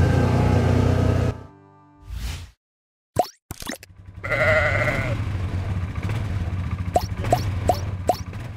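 Sheep and lambs bleating outdoors during lambing, several short wavering bleats from different animals near and farther off, with rustling and a few sharp clicks between calls.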